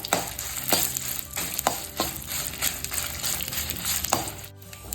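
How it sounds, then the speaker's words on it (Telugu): About fifteen dried red chillies fry in a pan on a low flame for gongura pulihora masala, a steady close sizzle broken by repeated sharp scraping stirs. "ఒక 15 ఎండుమిర్చి వేసుకొని లో ఫ్లేమ్లోనే కొంచెం ఎర్రగా వేపాలండి"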